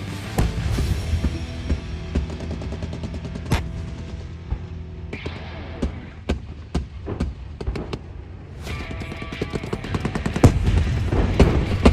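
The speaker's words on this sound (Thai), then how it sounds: "ที่ท่านเห็นอยู่นี้นะครับก็เป็นการยิงโคเวอร์ จากปืนคนยิงลูกระเบิดขนาด 40มิลลิเมตร" A 40 mm grenade launcher fires during a navy live-fire exercise, producing irregular sharp bangs and booms, some close and some farther off, layered with rumbling reports and echoes over a continuous low background.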